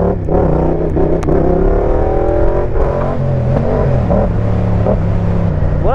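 Yamaha Tracer MT-07 motorcycle accelerating hard in second gear, a steady close engine roar with rising harmonic pitch sweeps, continuous and loud throughout with no talking.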